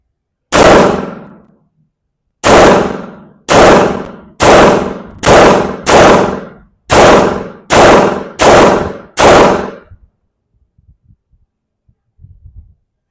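Ten loud gunshots from a Grand Power Excalibur competition pistol, a single crack followed by nine rapid, evenly spaced shots, each with a ringing decay, then near silence with faint handling clicks.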